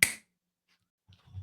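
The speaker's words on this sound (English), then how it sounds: "when I snap my fingers" A single sharp, close finger snap at the start, followed by near silence and faint movement.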